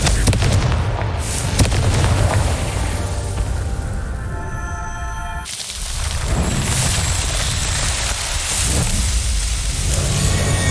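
A Confringo fire spell blasts in the Hogwarts Legacy video game, with a loud booming explosion rumbling over a continuous roaring, rain-like wash that dips briefly midway and then swells back.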